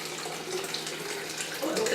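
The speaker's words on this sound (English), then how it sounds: "We're going to pour some of the water in here." Water pours steadily into a fairly big water bottle, a continuous splashing trickle that grows fuller near the end, close and clear with no talking.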